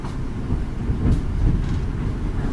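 A London Overground Class 710 electric passenger train running steadily, with a loud rolling rumble and rattling wheel noise from inside the carriage, no voices.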